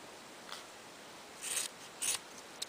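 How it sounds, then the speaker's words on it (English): Scissors snip open yarn loops on a handmade loopy yarn flower, a few short crisp cuts close up, spaced apart over near silence. "I'm going to cut open the loops, like that, on both sides"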